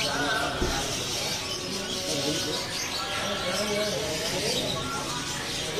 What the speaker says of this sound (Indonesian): Di kios ini juga ada burung perkutut cemani.